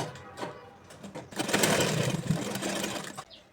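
A sewing machine runs a short tack stitch on men's underwear, a quiet hum that swells into a denser whirring burst for a couple of seconds before easing off.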